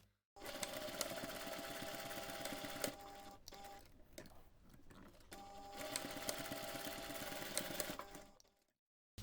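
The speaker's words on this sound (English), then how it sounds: "So now we can go to the machine and sew those two seams." A sewing machine stitches two seams on a fabric cardholder wallet, a rapid steady whirring hum that runs for a few seconds, stops briefly, then resumes for a second seam before cutting off, quiet and close.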